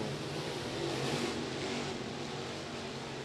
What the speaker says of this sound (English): Skylar Marlar is going to hit the throttle and make his way into turns 1 and 2